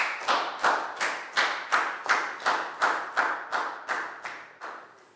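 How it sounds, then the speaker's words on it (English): A classroom claps in unison for a student during a Year 4 maths lesson, about a dozen slow, evenly spaced group claps, each sharp and ringing briefly, tapering slightly toward the end. "High five and a big round of applause for Prau"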